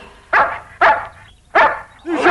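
Four loud, evenly spaced cartoon dog barks from a French animated ninja adventure, each a short bright bark standing alone with no talk over them.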